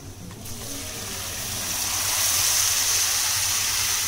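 Water poured into a hot pan of moong dal halwa made with desi ghee, a steady rising hiss and gush that grows louder and holds for several seconds.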